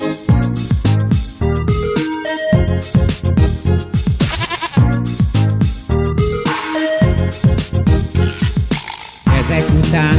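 A goat bleats in a lively, dense run of loud, wavering cries, one after another with only short gaps.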